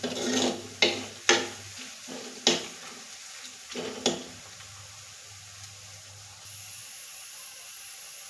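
Onions frying in a pan for a Kerala mulakartha puli dish, with sharp stirring clatters and scrapes over a soft steady sizzle; later the sizzle dies down and a faint hiss remains.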